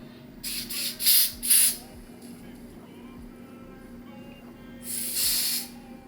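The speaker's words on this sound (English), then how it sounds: "I'm just gonna go ahead and just, you know, spray directly on the hair." Several short hissing bursts of glueless adhesive spray onto wig hair, close by: a quick cluster of three near the start, then one longer burst after a pause, over a quiet room.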